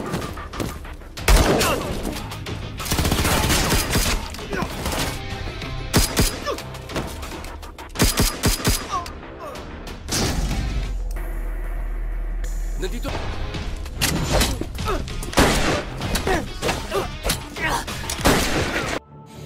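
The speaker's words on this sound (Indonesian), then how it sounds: "Karena terus mendengar suara tembakan" Rapid bursts of gunfire and crashing impacts from a violent dockside fight in a film, loud and repeated, broken by short lulls and a low rumbling boom.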